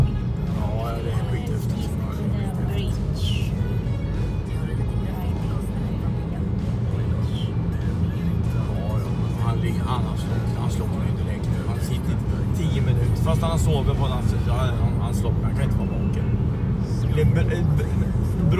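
A car driving along a road toward the coast, a steady low engine and tyre rumble heard from inside throughout, with people talking over it now and then.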